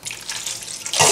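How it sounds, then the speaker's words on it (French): Lukewarm water runs into a bowl of salted dough mixture for focaccia buns, a close, steady hissing pour that grows louder and fuller at the end. "Et je mets de l'eau"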